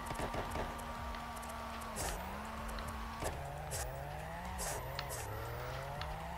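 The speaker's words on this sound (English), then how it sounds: "Love the backfire on this thing too." A JZX90 in the CarX Drift video game revs hard with tire squeal, its exhaust popping in several sharp backfire cracks spread through the clip.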